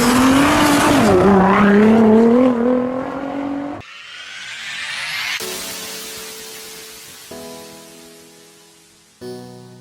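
A FAW Vita V5 compact sedan engine revs loudly with rising and falling pitch for a few seconds, then gives way to quieter, steadier engine and road sounds in several abrupt cuts.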